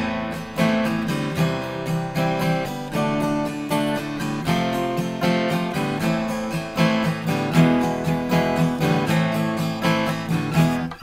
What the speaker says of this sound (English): if you were to play it on an acoustic guitar, it would sound like average acoustic guitar playing would sound like this.